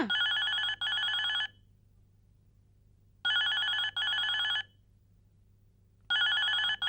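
Telephone ringing in a comedy scene: three loud, close bursts of double electronic rings separated by short silent gaps, with no talk over it.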